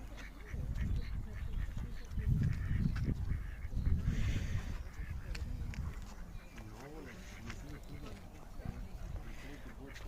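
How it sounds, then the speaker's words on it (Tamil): Ducks and swans quack and honk near a waterside in London, bird calls rising intermittently over a steady outdoor murmur, while a person talks throughout. "இது வாத்து, அது ஸ்வான்ஸு."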